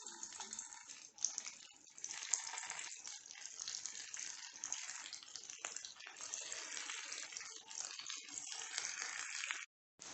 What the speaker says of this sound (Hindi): शामी तो हमारी बहुत अच्छे से फ्राई हो रही है।